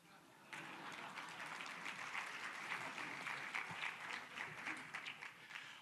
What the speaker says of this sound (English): As Jeb Bush would say, clap, please